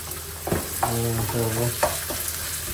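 Steady sizzle of onions sautéing in a pan, with a few scraping stirs of a utensil; close and moderately loud, no voices.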